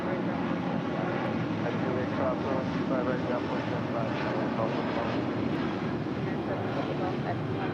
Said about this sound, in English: United Airlines Flight 1221 coming in from Honolulu in the 757-300